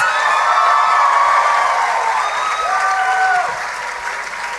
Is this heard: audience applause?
yes